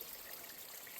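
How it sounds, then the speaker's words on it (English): A year-round mountain stream flowing among aspen and conifers, a soft continuous rushing trickle with no other sounds. "This stream right here"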